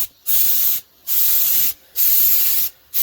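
A spray gun lays a heavier second coat of paint onto an F-150 truck's rocker and cab corner area in three loud, steady hissing bursts, each about three-quarters of a second long, with short silent gaps between passes.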